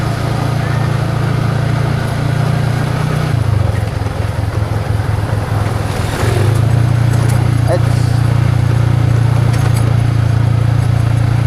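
A motorcycle ridden at night along the dark Rumpin–Rancabungur road drones with a steady, loud low engine note. Its pitch drops briefly partway through and then rises again, and the engine runs continuously throughout.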